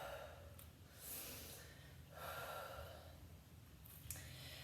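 Deep breaths during a plus-size yoga workout, several slow inhale and exhale swells spaced a second or two apart, close and soft with a faint low room hum underneath.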